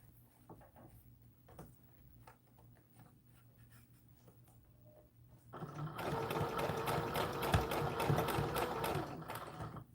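A sewing machine stitches doll dress fabric for an American Girl bodice, starting with quiet handling and scattered taps, then a loud continuous run of stitching in the second half.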